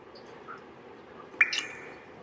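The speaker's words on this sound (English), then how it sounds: "And to that espresso mix, I'm going to add a splash of Kahlua." A splash of Kahlua goes into an espresso mix for a tiramisu-style cheesecake, heard as one brief, faint liquid drip-splash over quiet room noise.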